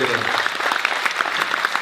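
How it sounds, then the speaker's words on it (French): An audience applauds participants at a peace conference held in a mosque, a steady wash of clapping with some voices underneath over a short stretch. "on peut applaudir tous les participants"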